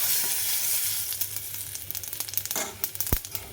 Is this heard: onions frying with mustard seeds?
yes